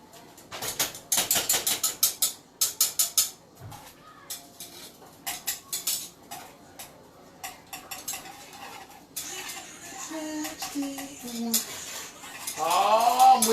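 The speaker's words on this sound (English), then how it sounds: "Oh, I'm whisking that up in the kitchen." Metal whisk clattering against a pot while butter and cream cheese melt into an Alfredo sauce in a home kitchen, a run of quick sharp clinks that slows into scattered taps and softer scraping.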